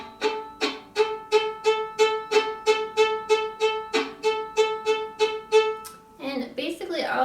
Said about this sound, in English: So a spiccato bow stroke sounds something like this.